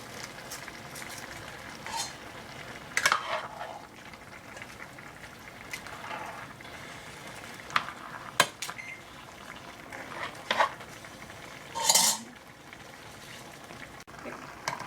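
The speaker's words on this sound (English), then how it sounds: "you're going to continue stirring constantly until the mixture is it should be a bit soupy" Haitian vegetable stew with pork neck and cabbage being stirred in a pot, a soft bubbling simmer broken by scattered clinks and scrapes of a spoon against the metal.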